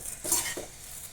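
A spatula briefly scrapes and stirs chivda snack mix in a pan over a low flame: two quick, soft strokes against the metal, faint and close, with no voices.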